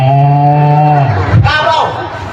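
A beatboxer's voice imitates a cow mooing, a loud sustained low moo with strong harmonics that bends and breaks off partway through, heard up close and alone.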